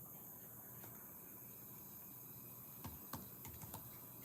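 Faint, sparse keystrokes on a computer keyboard, a few scattered clicks late in the stretch over a steady low hiss, with no voice.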